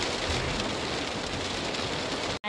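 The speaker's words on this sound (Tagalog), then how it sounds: "pa-video po video ng ulan." Steady rain pours down outdoors, a dense, even hiss with patter on surfaces throughout, loud and close, cutting off abruptly right at the end.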